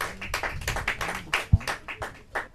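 A small studio audience at a Portuguese quiz show breaks into brief scattered clapping, a short burst of claps lasting a couple of seconds.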